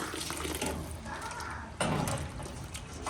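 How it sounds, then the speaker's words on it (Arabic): Water pours steadily into a pot for Moroccan couscous, a continuous close splashing that thickens and grows louder partway through, with no talk. "غادي نزيد الماء"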